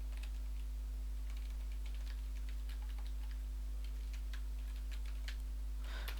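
Java code typed on a computer keyboard, soft irregular key clicks close by over a steady electrical hum, no talking.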